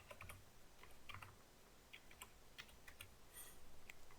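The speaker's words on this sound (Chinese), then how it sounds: "我们用打字的方式" Soft, quiet typing on a computer keyboard as a question is entered into an AI chat website, with irregular clusters of light key clicks and no talking.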